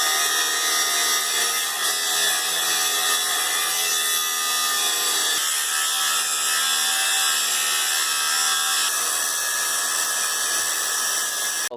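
Steel tubing is cut in one continuous harsh, bright sawing rasp that stays loud and close the whole time, with no talk.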